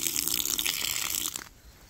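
Water pours off soaking acorns and their loose skins, a gushing, splashing flow that cuts off abruptly after about a second and a half, leaving quiet.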